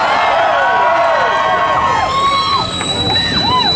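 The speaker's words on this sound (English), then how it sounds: "Kick-ass crowd here, huh?" A live rock concert crowd at Taste of Minnesota in Waconia cheers and whoops loudly, with scattered high shouts and whistles rising out of a dense, sustained roar.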